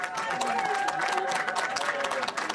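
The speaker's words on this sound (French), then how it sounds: "On peut encore applaudir ces jeunes." An indoor audience applauds young presenters from the Ancrage association at an urban heritage event, with dense, even clapping throughout.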